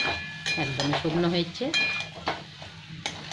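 A spatula scrapes and stirs dry chickpea curry over to one side of a wok, making short scraping and clinking strokes with faint sizzling, while a voice speaks over it.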